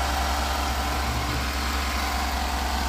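A 2013 Chevy Tahoe engine idles steadily and smoothly at close range, a continuous even rumble with no voices.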